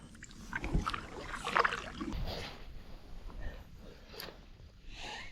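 Paddle strokes and water splashing from a Savage Gear kayak moving through a narrow canal, close and intermittent, with a few louder splashes and a steady watery background.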